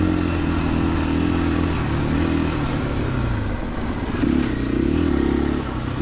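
A 2021 KTM 500 EXC-F dirt bike engine drones steadily and loud, pitch shifting slightly as the rider throttles along a rocky, wooded trail, with continuous mechanical clatter and no talk.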